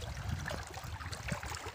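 Wind-driven water lapping and gurgling at a dam reservoir, a continuous low churning with small splashes, outdoors under gusty wind and no talk.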